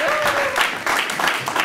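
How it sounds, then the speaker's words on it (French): Children clapping together at a music school in Ouagadougou, a brief, uneven burst of hand claps mixed with chatter and a sustained tone at the start. "On applaudit pour lui."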